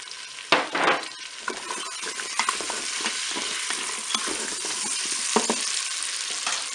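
Shallots and carrots frying in a pan, a steady sizzle with several sharper crackles and stirring scrapes, close and moderately loud, no voices.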